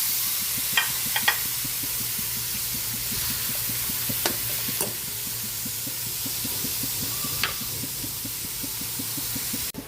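Ground pork sautés with garlic and onion in a pan, a steady close sizzle with rhythmic scraping strokes of a spatula and a few sharper taps, no one speaking.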